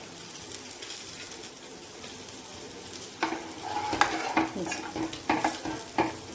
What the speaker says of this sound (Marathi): आता ह्याच्यामध्ये आपण पाणी ॲड करूया.